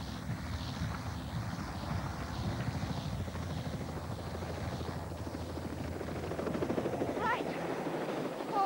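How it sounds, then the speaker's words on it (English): A helicopter drones steadily in the open with a dull low rumble and some wind buffeting the microphone, while people talk over it throughout. "Right, Annie, we need to get back to the helicopter"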